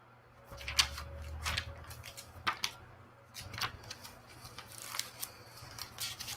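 A voice imitates scissors snipping through hair in a quiet ASMR style, producing irregular soft crisp clicks and snips close to the microphone, spaced unevenly over several seconds.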